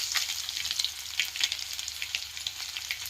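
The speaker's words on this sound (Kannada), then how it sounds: "ಒಂದು ಸ್ವಲ್ಪ ಜೀರಿಗೆ ಬೆಳ್ಳುಳ್ಳಿ ಜಜ್ಜಿಟ್ಟಿನಿ ಬೆಳ್ಳುಳ್ಳಿ ಕೂಡ ಹಾಕಿ ನಾವು" Cumin and crushed garlic sizzle steadily in hot oil for a brinjal curry, a dense close crackle with sharp spitting pops and no voices.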